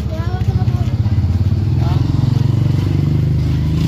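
Motorcycle engine running close by, a steady rumbling putter throughout with some clatter, while people talk over it.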